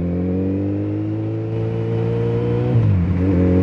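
A Suzuki Hayabusa motorcycle engine hums steadily at a close, loud, even pitch, then dips and rises briefly near the end as the throttle shifts, with no voices over it.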